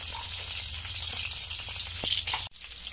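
Garlic, onion and ginger sautéing in a pan for ginisang tahong, a steady close sizzle with brief stirring clatters and a short pause near the end.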